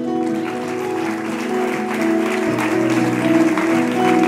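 A church congregation applauds at a sermon, steady clapping running the whole time over sustained organ or keyboard chords and a low musical drone, moderately loud.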